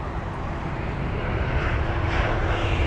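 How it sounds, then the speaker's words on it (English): Jet aircraft taxiing for departure toward runway 27 right at London Heathrow, a steady broad engine roar at moderate distance filling the scene without pause. "we see a few aircraft beginning their taxi to 27 right for departure"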